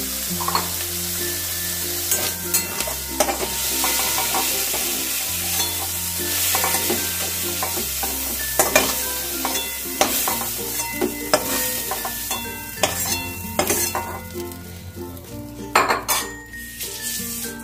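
Prawns fry in a wok, a continuous loud sizzle broken by frequent scraping stirs and metallic clinks of a spatula against the pan, close up with no talking.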